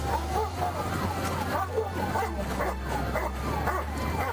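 A police dog barks repeatedly in short bursts over a steady low engine rumble, with faint voices and some whimpering yips mixed in.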